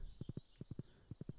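Horse hooves clip-clopping in the Stardew Valley video game: quick groups of three soft, hollow hoof taps repeating in a steady trotting rhythm, fairly quiet and alone.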